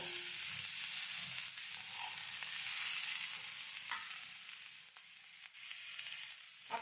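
Vegetables for veg fried rice stir-frying in a pan, a soft continuous sizzle with occasional spatula clicks and scrapes, fairly quiet and close, with no one speaking.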